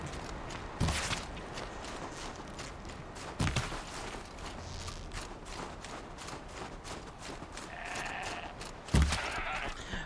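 A goat in Horizon Zero Dawn bleats a few times amid ambient game sound and soft footsteps, the calls brief and moderately loud.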